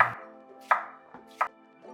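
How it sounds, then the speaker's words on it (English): A knife chops vegetables on a cutting board during vegan meal prep, with a few sharp, distinct cuts spaced irregularly, close and clear over a faint background hum. "Chop up a bunch of the vegetables"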